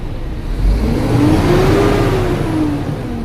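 A truck engine revs up toward maximum RPM, its pitch climbing and then easing back in one steady, loud, close sweep with no talking.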